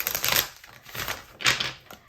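A tarot card deck is shuffled in several quick bursts of riffling and flicking cards, close and crisp, with short pauses between each burst and no talk.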